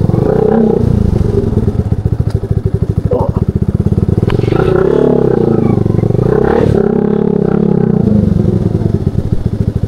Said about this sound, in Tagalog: Pasok na yung motor.